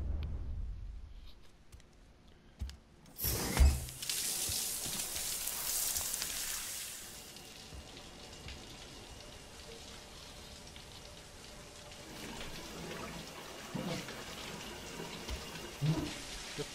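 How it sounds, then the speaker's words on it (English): Shower water running in the video game Death Stranding, a steady broadband hiss of spray that swells loudly after a few seconds and then continues as an even, moderate wash to the end, with small bumps and clatters now and then. "now I have to take a shower"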